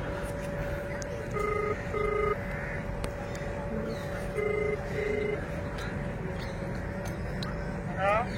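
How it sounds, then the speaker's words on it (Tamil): A phone call placed on speakerphone rings out in two paired ringback tones, repeated twice and steady over a constant background hum, with no one speaking yet. "இப்போ ஃபோன் பண்ணி பார்க்குறேன்."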